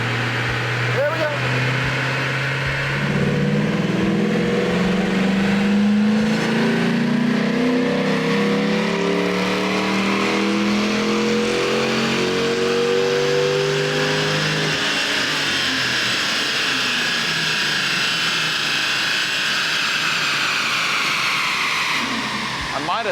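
A Ford Mustang GT V8 on a dynamometer pull, engine roaring and climbing steadily in pitch through a long, loud wide-open run before easing off near the end, with people talking over it.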